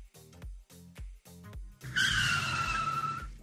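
A car tears through a drive-through car wash on the express setting, its tires squealing in a loud, sustained skid after a few short rhythmic thumps at the start.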